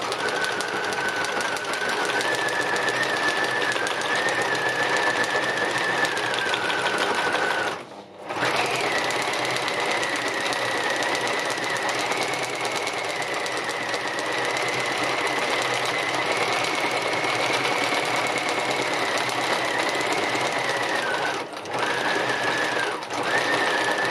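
A sewing machine stitches continuously during free-motion embroidery on soluble paper, a close, steady rapid whirring hum with slight speed shifts and a couple of brief pauses.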